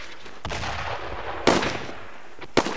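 Video game gunfire from Brothers in Arms: Road to Hill 30 during a World War II ambush: loud, close rifle shots and bursts crack over a dense, continuous battle rumble, with a few sharp single reports standing out.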